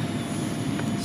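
A Freewing YAK-130 RC jet on a 6S setup flies at full throttle, its steady, loud whooshing roar filling a brief moment outdoors with no pause and no voices.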